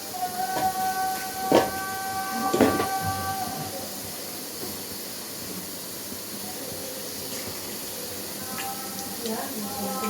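Bajji fritters frying in hot oil, a steady sizzling hiss close by, with someone talking over it and a few clatters early on.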